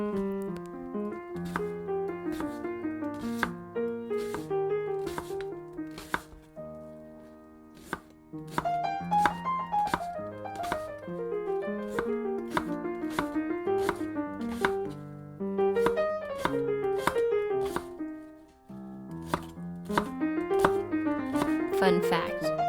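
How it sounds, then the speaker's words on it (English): A knife chops through an onion with repeated crisp, fairly even strikes on a cutting board, partly buried under loud, busy piano music that plays throughout. "Now it is time to chop up our onion."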